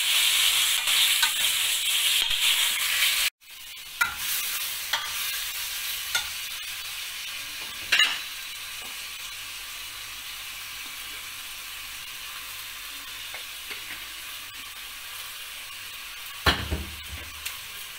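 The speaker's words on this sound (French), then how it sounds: "on va prendre les calamars, on va les mettre dans la même huile qu'on a utilisée pour les crevettes" Squid pieces frying in oil already used for shrimp, a loud, steady close sizzle and hiss that runs throughout, broken by a brief cutoff and a few clattering stirs, with no one talking.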